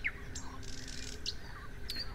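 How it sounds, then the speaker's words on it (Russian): A nightingale sings at a May fishing spot, its brief high chirps and whistled notes standing out faintly against a steady outdoor background hiss, with no one talking. "Соловей классный."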